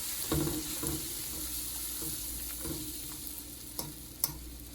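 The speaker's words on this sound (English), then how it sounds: "We're gonna make sure the butter melts in the pot." Butter melting with crushed garlic in a pot, a soft steady sizzle with occasional stirring clinks and scrapes, close and continuous with no talking.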